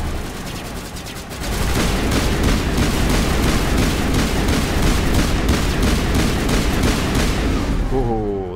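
Sustained, dense turret gunfire in Mass Effect Legendary Edition on the Luna mission. It rattles nonstop at close range after a brief lighter opening and holds loud for about seven seconds before tapering.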